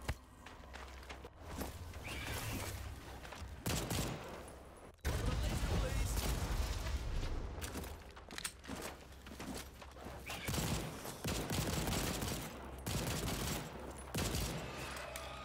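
Pistol gunfire in the video game Second Extinction comes as bursts of sharp, repeated shots mixed with game effects and footsteps, fairly loud and dense, while players talk over it.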